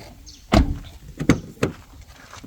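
The doors of a white 2013 Volkswagen Polo Highline diesel are shut, giving three close, solid thumps spaced under a second apart against faint background noise.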